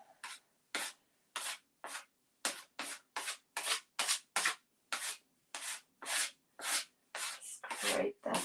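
Paint is scraped back on a fridge with a tool, making a steady series of short, dry rasping strokes, around a dozen evenly paced passes, close and fairly quiet with no talking.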